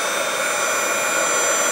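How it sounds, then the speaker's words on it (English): A hair dryer blows steadily and loudly at close range, heating a jar of dried-up gel eyeliner until it melts, an unbroken whooshing roar with no voices. "And then with the hair dryer,"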